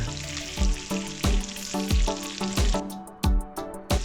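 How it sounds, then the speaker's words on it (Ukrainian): Steady sizzling of mushrooms frying in a pan with pork ribs, close and fairly loud, under rhythmic background music without speech. "Перемішуємо та продовжуємо смажити."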